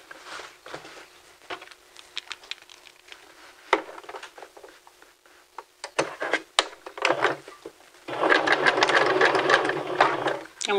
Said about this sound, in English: then we're going to sew a straight stitch